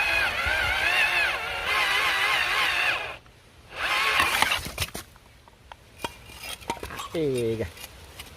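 A cordless drill-driver turns a water-fed bit to finish boring a hole for a homemade spot welder. Two long, steady grinding bursts are followed by scattered clatter and clicks, and a brief voice is heard at the end.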